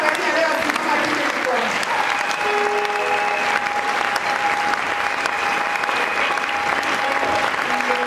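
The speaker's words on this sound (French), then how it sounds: "Est-ce qu'on peut acclamer fortement le roi?" A church congregation applauds and cheers loudly and steadily throughout, a dense continuous wash of clapping with voices shouting over it.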